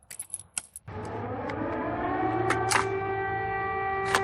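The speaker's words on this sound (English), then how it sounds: "then the piercing siren immediately goes off" After a few scattered knocks, a wailing air raid siren in wartime Ukraine rises and holds a loud, sustained tone, with faint clatters over it.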